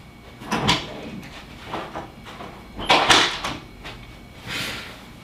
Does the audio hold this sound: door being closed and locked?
yes